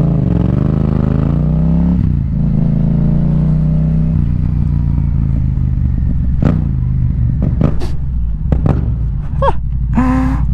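A motorcycle with a CP2 engine idles and revs after a cold start, a loud close engine drone rising and falling in pitch, followed by sharp clatters and a short engine note near the end.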